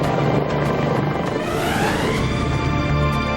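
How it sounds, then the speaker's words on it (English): A V-22 Osprey tiltrotor aircraft flies overhead with a loud, steady, dense roar of rotors and engines that fills the whole stretch without a break. "the V-22 can fly much faster and travel much further than any helicopter"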